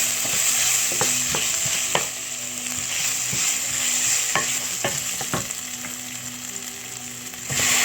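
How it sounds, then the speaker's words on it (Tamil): Brinjal sautéing in a pan for curry: a steady close sizzle with repeated sharp scrapes and clinks of a spoon stirring through the pieces, no voices. "நல்லா வதங்கினோன்னு நம்ம கத்திரிக்காய் சேர்த்துக்கலாம்"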